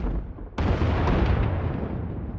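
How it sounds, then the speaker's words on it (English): Heavy bombing explosions in a video game's separatist attack on Ord Mantell: a sudden loud boom at about half a second gives way to a dense, continuous rumble of blasts that carries on to the end. "Sounds like the bombing's getting closer."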